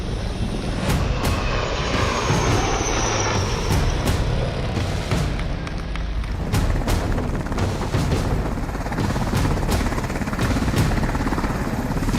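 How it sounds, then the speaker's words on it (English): A light combat helicopter flying during an aerial display, its dense rotor roar filling the whole stretch loud and steady, with rhythmic blade chop and no talk. "After the breathtaking display of exceptional piloting skills, the light combat helicopter is in."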